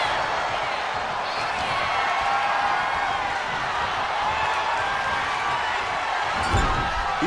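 Steady crowd roar fills a WWE 2K25 wrestling arena, a continuous wash of cheering held at even loudness throughout, with a low thump near the end.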